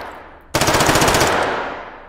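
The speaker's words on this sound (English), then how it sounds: "This one's a little M16." An M16 rifle fires a rapid fully automatic burst in the VR shooter game H3VR, a sharp onset of close, loud, rattling shots lasting about a second before the sound tails off into echo.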